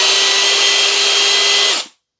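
Stanley FatMax V20 SDS cordless drill spinning in plain drill mode, a steady loud high whine with a constant motor tone that cuts off abruptly as the trigger is released.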